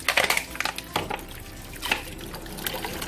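Water tossed onto a floor for washing it, splashing and trickling in several uneven bursts, close and moderately loud, with small clatters in between.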